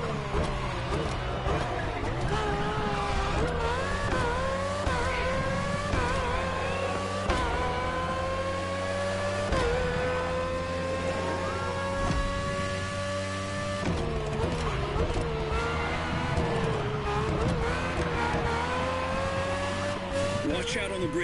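A race car with a powerful Honda engine drives in The Crew Motorfest video game, its engine whining steadily up and down through gear changes with some tire noise, loud and continuous.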